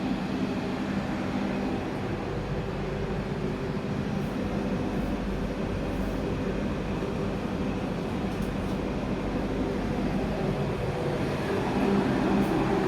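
The KA Sembrani executive passenger train rolls along in a steady, continuous roar of wheels and carriage rumble, heard from on board with no break.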